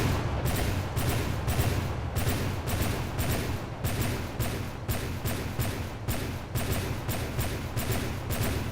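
Cannon fire in the naval combat game From The Depths, with rapid shots at a steady, consistent rate, each a loud booming report repeating rhythmically, close and without talk.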